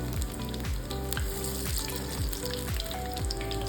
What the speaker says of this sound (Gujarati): મીડિયમ ફ્લેમ પર આપણે ભજીયાને તળી લઈશું